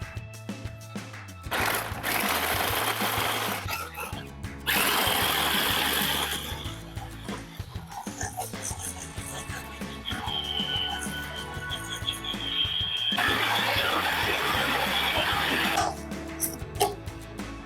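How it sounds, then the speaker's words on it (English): Food processor pulsing cookies and butter into crumbs for a no-bake ice cream pie crust, loud motor bursts in repeated pulses, then a longer run on high, close and without talk. "Now we're gonna pulse to break up the cookies, and then we're gonna mix on high until we have a fine crumb and uniform texture."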